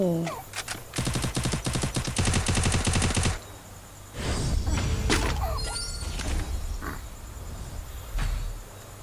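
Rapid automatic gunfire from the Free Fire mobile shooter game rattles loudly for a couple of seconds, then more scattered game effects and bursts follow, with a person talking in between.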